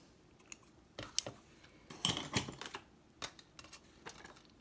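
Scissors cutting through ribbon: a few quiet, separate metallic snips and clicks with short handling noises between them, close by and with no talk over them.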